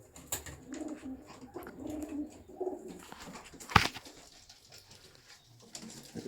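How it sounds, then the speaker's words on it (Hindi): Teddy pigeons cooing softly in a low, rounded murmur, close and fairly quiet, with a sharp clack or knock near the middle and light background rustle. "आज कुछ टैडी कबूतरों में आपको शौक करवाएं।"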